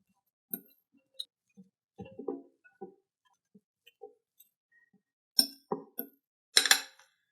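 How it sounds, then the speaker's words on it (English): A fork works soft garlic herb butter in a bowl, giving scattered light clinks and soft scrapes, sparse at first and then a denser cluster of close taps and clatter toward the end. "I'm doing this by hand today with a fork because my butter is pretty soft."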